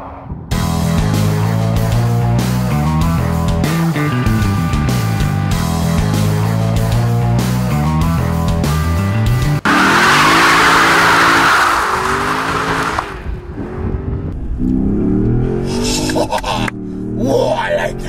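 A Lexus IS F V8 engine revs hard through repeated upshifts under full acceleration, its pitch climbing and dropping with each gear change, then a loud roaring burst and fading revs, close and loud with no talk over it.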